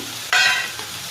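A sudden loud burst of hissing sizzle as water hits a hot pan of frying potatoes, then the sizzle fades steadily over the next second.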